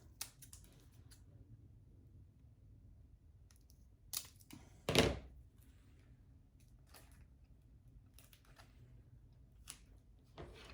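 Scissors snipping paper for a fake Christmas cake, faint and close: scattered quiet clicks and short snips over a hushed room, with one louder cut near the middle.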